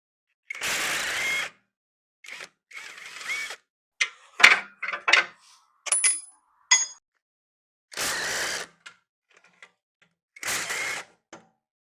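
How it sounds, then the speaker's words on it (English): An impact wrench loosens bolts on a car exhaust, firing several short, loud bursts a few seconds apart, with lighter metallic clicks and clinks of tools in between. "I'm going to use the impact."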